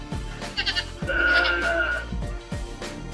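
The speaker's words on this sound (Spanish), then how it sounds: "una oveja," A sheep bleats in a long wavering cry, close and clear, after a few shorter bleats, with no speech.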